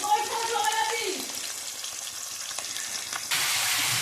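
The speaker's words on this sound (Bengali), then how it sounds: "এই যে কাতলা মাছ ভাজা।" Katla fish fries in a pan, giving a close, continuous sizzle and crackle with stirring scrapes; a voice speaks briefly over the start, and the frying swells louder and brighter toward the end.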